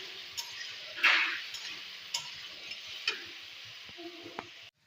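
Potatoes frying in a pan with salt and turmeric for a potato-tomato curry, a steady soft sizzle with occasional stirring scrapes and light clinks of a utensil, close and moderately quiet.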